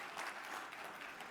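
A luncheon audience breaks into a short burst of applause, a brief, moderately loud patter of many hands clapping.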